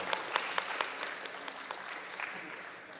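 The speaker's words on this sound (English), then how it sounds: "Request all of you to give a big round of applause." Audience applause at a Consumer Protection Council golden jubilee celebration in Trichy, with distinct sharp claps early on that thin out into softer, scattered clapping, fairly faint and distant.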